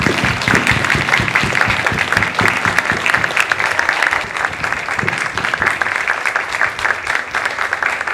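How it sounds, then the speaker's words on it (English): Lunch guests give a lively round of applause, dense and close clapping that holds at a strong level throughout with little variation. "please, a round of applause for a very, very cool woman, Chrisi Hart."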